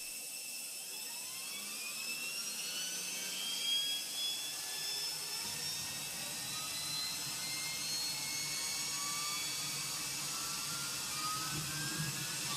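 The APU of a Toliss A319 spools up in X-Plane 11 while the aircraft sits at the airport. A steady jet-like whine with a rising pitch sweep runs continuously and evenly throughout, with no voices.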